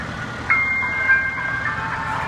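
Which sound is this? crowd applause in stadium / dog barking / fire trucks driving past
fire trucks driving past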